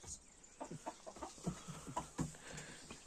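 Hens and young chicks cluck and peep in a farmyard, a string of short soft calls scattered irregularly at close range.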